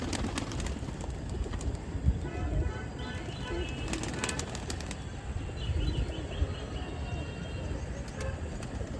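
Pigeons on a rooftop in Amritsar, with wings flapping and soft cooing among scattered bird calls, against steady outdoor background noise and occasional traffic.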